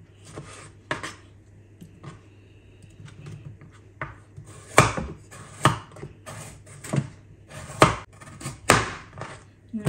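A knife chops tomatoes for a gravy on a cutting board, with about a dozen irregular crisp thuds and scrapes that grow louder and closer together toward the end, over a steady low background hum.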